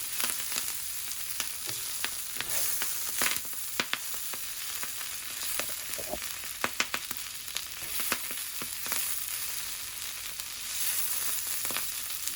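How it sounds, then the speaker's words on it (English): Kale leaves and garlic sizzle on a hot grill in a steady, close crackling hiss with scattered sharp pops and light scraping, and no voices. "ये देखें ग्रिल हो रही है"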